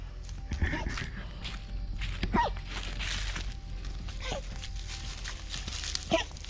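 Dogs move around nearby with light scuffling steps, jingling and a few soft whimpers and yips, while quiet rustling fills the background.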